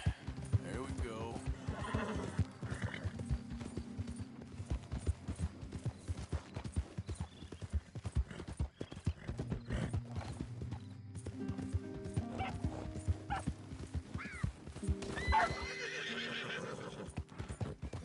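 Horse hooves clip-clopping at a gallop with several whinnies and neighs from a horse in the video game Red Dead Redemption 2, heard over game music and effects with a voice speaking now and then.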